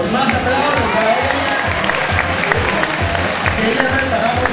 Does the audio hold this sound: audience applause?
yes